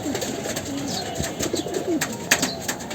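A male pigeon coos in a loft, soft low warbling calls repeating irregularly over a steady background of other birds and faint rustling.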